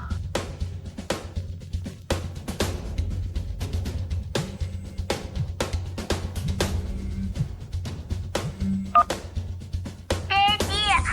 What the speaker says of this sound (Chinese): 马上给他打电话。